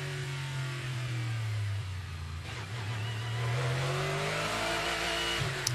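Prototype race cars from Cadillac, Acura and Porsche at the 12 Hours of Sebring restart after a full course yellow. Several engines rise and fall in pitch as they accelerate, heard at a moderate distance and fairly quiet.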